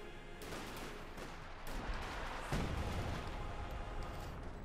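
Howitzer artillery fire in the real-time strategy game Company of Heroes 2: distant, muffled booms and thuds are heard, with a heavier low impact midway, all sitting within a steady wash of battle noise.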